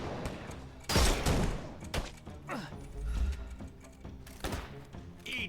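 In Sherlock Holmes: Chapter One, gunfire erupts as a burst of sharp shots and heavy thuds, a loud cluster near the start followed by scattered irregular shots and impacts.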